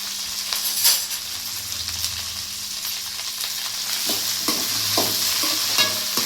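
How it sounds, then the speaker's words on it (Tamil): Okra fries in a pan for a Tamil-style kuzhambu, a soft steady sizzle under repeated scraping stirs of a spoon against the pan, fairly quiet and close. "முதல்ல வெண்டைக்காயை போட்டுக்கலாம். வெண்டைக்காய் வந்து நல்லா வணங்கிட்டுங்க."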